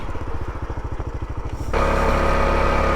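A 1984 Honda Trail 110 motorcycle engine chugs in a fast, pulsing rhythm, then revs up sharply into a steady, loud, high-pitched drone, close to the ear with no talking.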